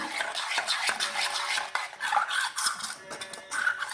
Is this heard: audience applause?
no